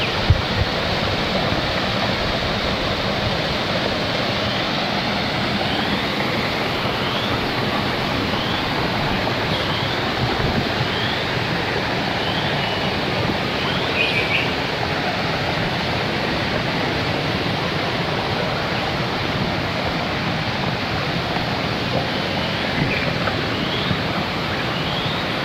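A forest waterfall pours into a stream roughly 10 to 15 meters wide, producing a loud, steady, unbroken roar of rushing water that runs continuously throughout with no voices.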